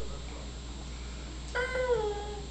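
A person imitates a cat with a single drawn-out, wavering meow over a low steady hum, near and fairly quiet.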